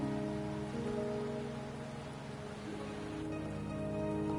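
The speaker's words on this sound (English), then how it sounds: "Are you trapped here by the rain?" Steady rain falls in the video game Wuthering Waves, a soft, even patter on surfaces that holds throughout at low volume with no talk over it.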